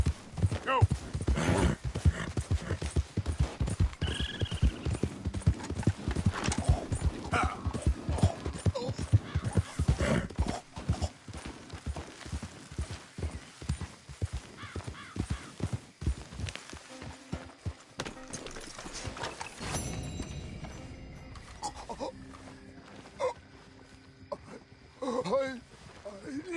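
Hooves clip-clopping at a brisk gallop in Red Dead Redemption 2, loud and rapid, with a horse whinny or two, then slowing near the end as voices talk.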